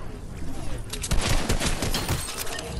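Rapid bursts of gunfire in the Fortnite video game, with dense crackling shots and a heavier flurry in the middle, under excited players' voices.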